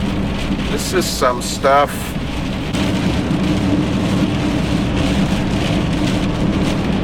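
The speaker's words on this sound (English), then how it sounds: "Now it's raining like crazy as well." Heavy rain storm pounds a wind-exposed spot in Lofoten in the Arctic, a dense, steady roar of downpour close by, while a person speaks briefly early on.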